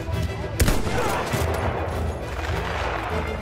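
Gunfire in the Battlefield 1 World War I shooter game: a sharp, loud shot near the start over a steady rumble of battle noise and distant firing, with a low-ammo soldier firing sparingly.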